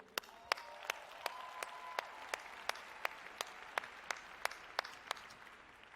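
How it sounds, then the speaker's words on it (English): An audience at a conference applauds a speaker, with a fairly sparse, regular run of separate claps spread across the whole stretch, set back in a large room and with no talking over it. "let's give one more applause to Laura Cole for her inspiring speech"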